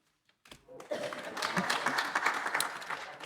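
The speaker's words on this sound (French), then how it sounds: "si vous êtes d'accord, on applaudit" After near silence, applause swells from a conference audience, scattered claps building within a second into full, steady clapping from many hands in a meeting room.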